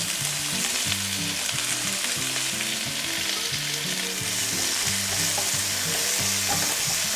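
Sliced onions frying in a pan with a pinch of cardamom and nutmeg for curry-leaf chicken pulao, giving a steady, dense sizzle that runs the whole time alongside low, rhythmic stirring and scraping.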